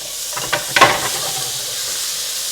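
Chopped tomatoes go into a hot pan where garlic has been cooking in oil, giving a few quick clatters and then a steady soft sizzle and hiss, up close with no talking.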